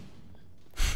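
A video game character in The Order: 1886 breathes hard after climbing stairs, heard as a quiet stretch followed by one sudden loud, breathy exhale at the end, with no speech.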